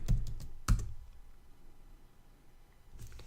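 A few quick computer keyboard keystrokes typing a stock ticker, clustered clicks near the start and again at the end with a quiet gap between, close and fairly soft.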